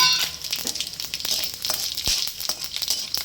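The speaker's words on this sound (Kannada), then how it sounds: "ನೋಡಿ ಇದು ಚೆನ್ನಾಗಿ ಫ್ರೈ ಆಗಲಿ ಇದು ಚೆನ್ನಾಗಿ ಫ್ರೈ ಆಗಿರುತ್ತೆ" Masala spices for lemon chutney fry in hot oil over a medium flame, giving a steady, close crackling sizzle with scattered sharp pops.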